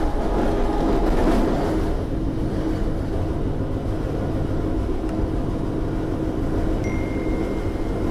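A KA Malabar executive-class passenger train runs at night between Bandung and Malang, heard from inside as a steady, moderately loud rolling rumble with no talking.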